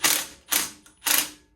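Three quick ratcheting bursts from a 1/2 inch ratchet wrench loosening the belt guard bolt on an Ariens Deluxe 28 snowblower, close, crisp and mechanical, each clicking run fading out before the next.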